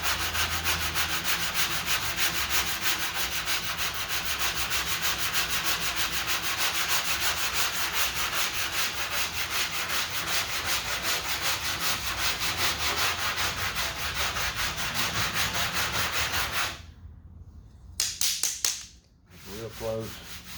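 Hand sanding of a body filler skim coat over a car body dent makes a continuous, rapid back-and-forth scratchy rasp, loud and close, before it breaks into a few short strokes and pauses near the end.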